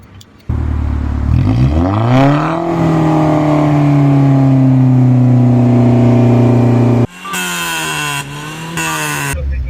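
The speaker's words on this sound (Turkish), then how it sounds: "Düğmeyi bastığında şu şekil egzoz aktif hale geliyor." A car engine with its active exhaust valve opened revs hard, its pitch climbing, then holding at a loud drone before a brief cut and a second rasping burst of revs.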